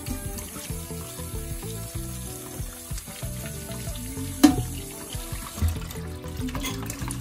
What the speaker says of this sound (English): I will strain it, cool it off with some cold water,